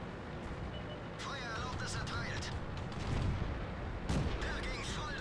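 Tank cannon fire in World of Tanks, with a T29 in play: several deep booms land in a steady roar of engine and battle noise, the heaviest blasts coming late, while someone talks over them.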